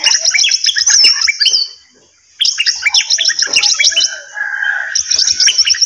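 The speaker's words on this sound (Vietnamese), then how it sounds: "Hiện Nguyên Dương có 5 loại chim và tiếng hót của chúng thật là đa sắc màu" Several kinds of wild birds sing together, a dense, close mix of bright chirps, trills and whistled phrases that pause briefly twice before resuming loud and alone.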